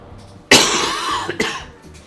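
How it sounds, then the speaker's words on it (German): A person gives one sharp, loud cough followed by a shorter second cough, close to the microphone, with quiet room tone before and after. "Ich hoffe, ich schneide den Huster raus."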